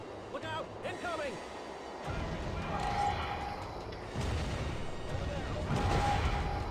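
Grenades exploding in Turok: Evolution, dull booming blasts in two rumbling waves against game noise, with a voice talking over them.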